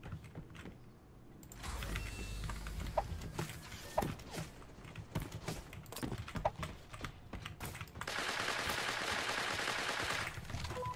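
Uzi bursts in the shooter game Creative Destruction, sharp clicky shots scattered irregularly across the clip amid footsteps and action noise, ending in a louder sustained hiss of activity, with no talking.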